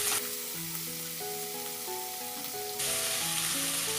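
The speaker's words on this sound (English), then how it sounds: "Give it a good mix and add potatoes. Here I am adding the potatoes." Potatoes added to cooking tomato in a pan, a steady sizzle that grows louder and brighter partway through, heard under soft background music with no speech.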